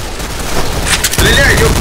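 Gunfire in the online shooter Counter-Strike Online 2: a short, loud volley of shots, followed by a voice speaking over the game sound.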